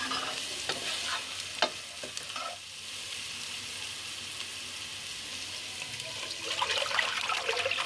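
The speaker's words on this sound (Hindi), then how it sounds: "अब लहसुन डाल के इसको भी हल्का सा फ्राई करूँगी" Garlic and onion fry in a pot while being stirred during mutton mandi cooking, giving a steady soft sizzle with occasional scraping stir strokes, close and moderately quiet, with no talk.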